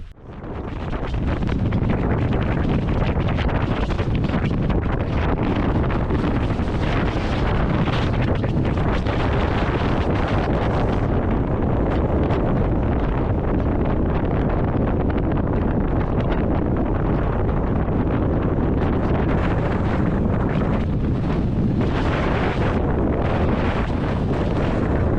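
Strong, continuous mountain wind near the Puy de Sancy summit in Auvergne roars and buffets against the microphone, loud and unbroken throughout with gusty surges.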